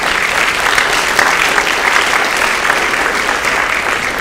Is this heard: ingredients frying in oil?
no